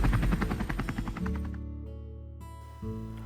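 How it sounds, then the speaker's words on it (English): A cartoon-style helicopter's rotor blades thump in a fast rhythmic chop that slows and fades, leaving a steady engine whine. "there was the sound of propeller blades, and Harold the helicopter appeared"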